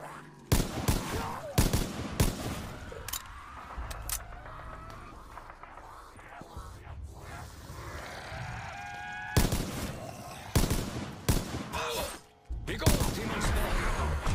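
An MG42 machine gun firing in Black Ops 3 custom Zombies, loud repeated bursts of shots broken by short pauses, with other game sounds and a voice in between.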